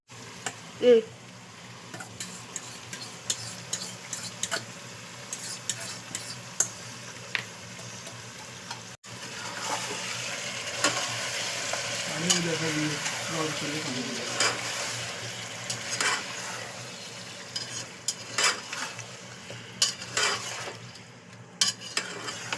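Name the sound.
yogurt being heated and stirred in a pot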